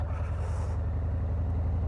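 Harley-Davidson Fat Boy 114 motorcycle with the same engine as the FXDR and Fat Bob, heard while riding: a steady, loud low engine rumble with rhythmic pulsing throughout, plus some wind noise early on.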